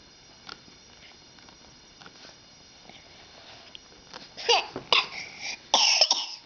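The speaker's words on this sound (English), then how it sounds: "Oh, cough, cough" A few quiet coughs at first, then a cluster of louder, harsher coughs close by near the end, irregular and wet-sounding.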